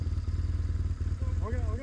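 An off-road motorcycle engine idles with a steady low pulsing thrum on a trail ride, close and loud, while someone speaks over it.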